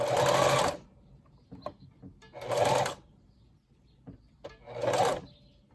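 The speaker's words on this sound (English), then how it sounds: "So I'm gonna backstitch it and just sew." A sewing machine runs in three short bursts while backstitching and sewing a ribbon tutu, with quiet handling clicks and pauses between the whirring runs.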